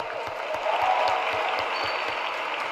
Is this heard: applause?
yes